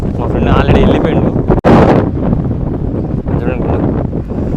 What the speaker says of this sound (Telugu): మొత్తం గాలి మొత్తం చలి గాలి ఇదంతా